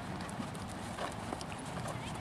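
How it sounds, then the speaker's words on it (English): A dressage horse's hooves beat in a steady clip-clop rhythm on an arena surface during a riding lesson, under a faint background hiss, with an instructor's voice present. "Do I have a dressage horse? Very much so."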